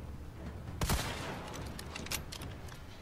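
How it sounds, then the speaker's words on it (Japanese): A sniper rifle fires in a Capcom VR game: one loud, sharp crack with a long reverberant tail, followed by fainter mechanical clicks and clatter. "スナイパーライフル、"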